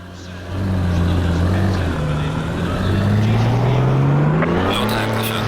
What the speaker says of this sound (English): better give her a rev up, see what she sounds like